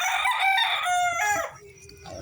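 Backyard chickens kept for raising cluck, and a rooster crows loudly nearby in a drawn-out call before the noise drops to softer clucking.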